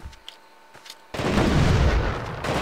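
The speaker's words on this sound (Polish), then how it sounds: "Ale wybuch." An explosion in the video game The Thing, a sudden deep boom that swells into a sustained roaring rumble after a quieter stretch of faint game sounds, loud and full-bodied.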